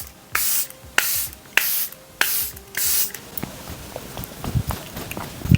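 Charlotte Tilbury setting spray mists onto a face in five quick, close hissing bursts, each about half a second, followed by softer rustling and fanning sounds.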